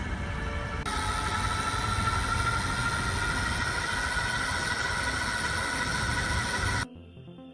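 Cyrusher X2000 folding electric fat tire snow bike with 500W motor running on throttle, a steady whirring hum with broadband noise, close and continuous for about seven seconds before cutting off abruptly.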